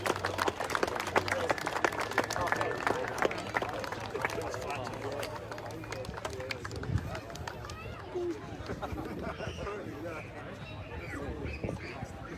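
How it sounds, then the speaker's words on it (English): Crowd applause for the umpires at a country football league grand final, Cervantes versus Lancelin, with scattered clapping and cheering spread through the whole stretch beneath a speaking announcer. "so round of applause for the umpires"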